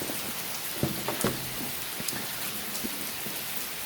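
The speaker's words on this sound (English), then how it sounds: "Started raining even more when I left the truck." Rain falling heavily outdoors beside a parked truck on a kayaking trip, a constant close hiss of downpour with scattered sharper drop taps on nearby surfaces.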